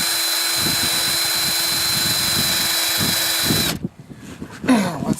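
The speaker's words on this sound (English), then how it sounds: "I'll fire it up and rinse it again" A pressure washer rinses a 1988 Jeep XJ cylinder head, its motor holding a steady high whine over a spraying rush before cutting off, leaving quieter clatter and handling noise.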